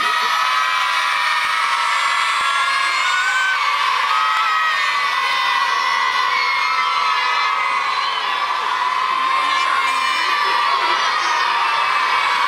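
Large crowd of schoolchildren at a telethon shouting and cheering together for firefighters, a dense, sustained roar of high voices held loud and continuous throughout.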